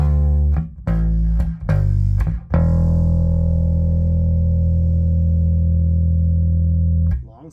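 A Fender Player Precision bass guitar in a clean tone: a few short plucked notes, then one long sustained note ringing steadily for several seconds before being cut off.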